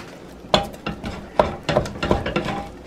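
Pounded yam foufou worked in a pot with a spoon, giving a string of irregular knocks and scrapes against the pot, moderately close and fairly loud, with no talk.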